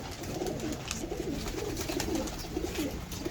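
Pigeons kept by a small-scale breeder coo in soft, throaty repeated phrases, a steady low murmur close by with faint background noise.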